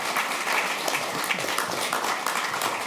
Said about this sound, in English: First, give him a warm applause.